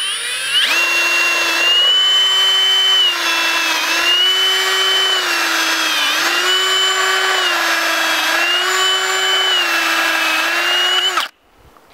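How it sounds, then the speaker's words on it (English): Power drill boring a row of holes into a log for mushroom plug spawn, a loud, sustained whine that rises and dips slightly under load for about eleven seconds before cutting off abruptly. "I'm going to start by drilling a row of holes about 6 inches apart down the log."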